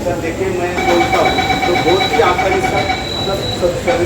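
A Mumbai Metro Line 3 underground train at MIDC Andheri station rumbles steadily along with continuous mechanical noise and a faint high whine, while people chatter in the background.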